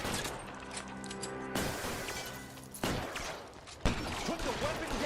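Sharp gunshots from the L.A. Noire video game crack out at intervals, with about three loud reports standing out over a busy, cluttered game soundscape and nearby voices.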